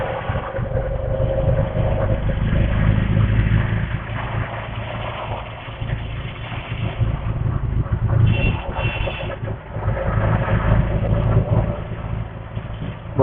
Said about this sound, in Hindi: बहुत ज़्यादा ट्रैफिक